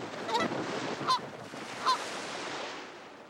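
Canada geese give three distinct honks in the breeding season, moderately close over a soft background wash.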